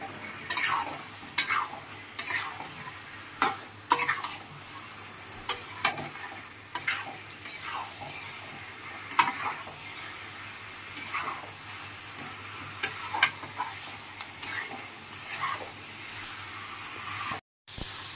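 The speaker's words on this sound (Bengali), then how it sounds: "এবার আলুটা দিয়ে আরও ভালো করে কষিয়ে জল দিয়ে দেবো" Potatoes stirred and sautéed in a cooked spice masala for a duck egg curry, a steady sizzle broken by repeated scraping strokes of a spoon against the pan, close and clear with no talking.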